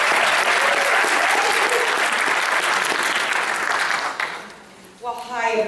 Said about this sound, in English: let's give a big round of applause for Diane Cunningham